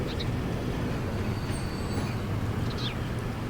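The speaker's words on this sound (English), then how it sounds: "Here comes another train." A train rolls past in the rail-management game Transport Fever 2, a steady broad rumble of wheels and carriage noise with faint high squeals, holding at constant loudness throughout.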